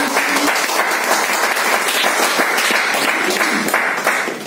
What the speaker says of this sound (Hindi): तालियां होनी चाहिए डॉक्टर लिम